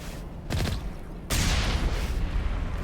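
A rifle fires in the video game Mass Effect: a short burst of shots followed by a louder, sustained blast that rings on, near and heavy.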